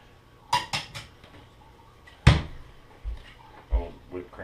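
Dishes and cutlery clattering in a kitchen cupboard while searching for a bowl, several sharp clinks and knocks spaced apart, one louder clank, close and fairly quiet, with a voice speaking briefly.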